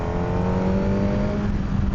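A 2026 Suzuki GSX-R1000R sport motorcycle engine revs high and steady, a close, continuous droning whine with rising harmonics and constant wind noise underneath, with no talking.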